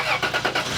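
A car engine turning over and catching after UV leak dye is added, a short, loud, close burst of mechanical cranking settling into a running rumble.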